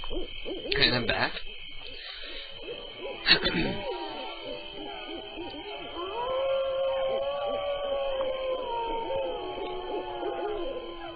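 Owls hooting at night, a series of clear drawn-out hoots with a few sharp knocks early on and a long wavering call later, crickets faintly behind.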